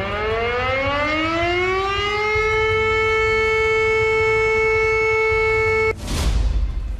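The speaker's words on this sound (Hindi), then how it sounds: "का सायरन बजने लगता है।" A nuclear attack warning siren winds up and holds a loud, steady wailing tone for several seconds, then cuts off abruptly into a brief burst of noise.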